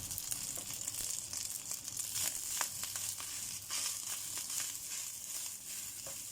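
Garlic fried rice crackling and sizzling in a hot pan, a continuous bright frying hiss with scattered pops and scraping stirs, close and alone.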